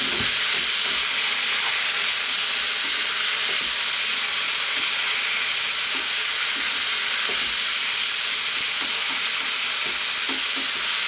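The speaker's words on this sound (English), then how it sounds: "Off goes the heat, just stir it in." Beef and onions in a wok with oyster sauce and sriracha being stirred off the heat, a loud steady sizzling hiss from the hot pan with faint scraping stirs throughout, no talking.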